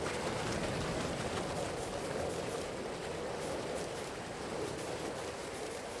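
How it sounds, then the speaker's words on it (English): A waterfall in the video game Farming Simulator 22 rushes in a steady, dense roar, heard from nearby, continuous with no pauses. "Beautiful view of this waterfall, and you can hear that."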